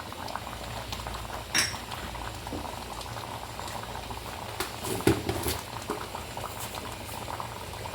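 Beef nihari simmers in a pot with a steady low bubbling, broken by a few sharp spoon and metal clinks against the pot; no talking.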